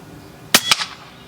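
An air rifle fires at a target during scope tuning with a DNT Thermnight thermal night-vision unit: two sharp, close cracks about a fifth of a second apart, the report and the impact, in otherwise quiet surroundings.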